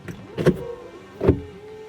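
Opel Insignia sunroof motor whirring open in two short pulses with brief mechanical clunks, close and clear inside the car, no talk.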